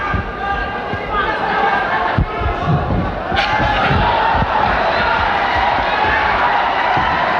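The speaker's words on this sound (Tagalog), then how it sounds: "The crowd egging on Pacquiao." A boxing crowd at the Manny Pacquiao versus Dele Desierto fight roars and cheers steadily as the fight goes on, a dense, continuous wall of crowd noise with a few sharp thuds, under commentary.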